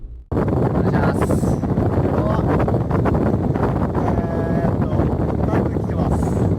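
Strong Typhoon No. 24 wind buffeting the microphone in Shingu in September, a loud continuous roar and rumble that fills the whole stretch without letting up.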